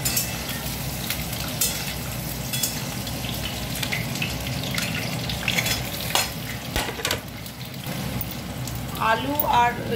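Potato and carrot frying in a pan with cinnamon and cardamom, a steady sizzle broken by repeated scraping strokes of a spatula, with a person speaking over it.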